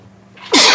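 Single loud, close sneeze in a podcast studio, a brief intake of breath and then a sharp explosive burst at the end.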